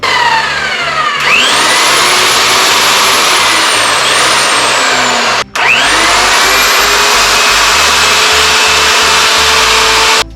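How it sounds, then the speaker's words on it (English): A tube bending machine for a custom diamond-frame cruiser bike build, driven by a pipe threader, gives a loud continuous motor whine with rising and falling pitch, briefly cutting out midway before starting again. "I'm going to give you guys kind of an idea of how this machine works using the pipe threader instead of using the big wheel"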